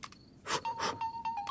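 A phone rings in a home, with short repeated electronic tone bursts and a thin sustained beep underneath, fairly quiet and with no talking.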